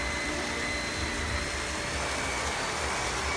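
A household vacuum cleaner runs on a home's second floor, a loud, steady motor drone with a constant whine that holds unchanged throughout, close by, with no talk.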